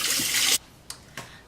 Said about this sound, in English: I'm rinsing some water on it.